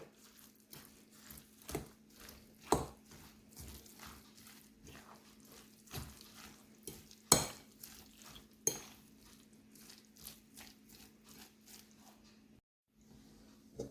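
Beaten egg yolks being stirred into a pumpkin and meat casserole mixture: a utensil scrapes and clinks against the bowl in quiet, irregular strokes, with no talking.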